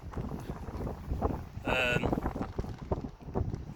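Strong gusty wind on the shore at New Brighton buffets the microphone with heavy low rumbling and flapping noise, rising and falling in bursts, with a brief higher whistling tone midway.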